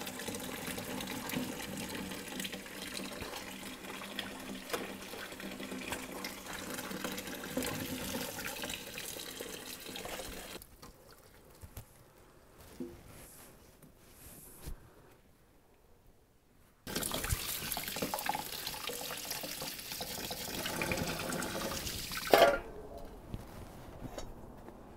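Tap water runs steadily into a sink with a splashing rush while rinsing strawberries, stops for several seconds, then runs again.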